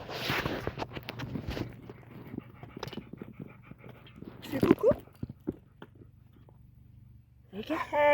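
A female dog pants rapidly and close while padding around a garden, her quick rhythmic breaths fading into quieter footsteps. A voice is briefly heard, and a burst of louder noise comes at the end.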